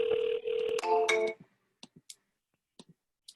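A telephone dials out during a live phone call, with a sustained tone and a burst of clicks followed by several short, sparse clicks and beeps in near silence.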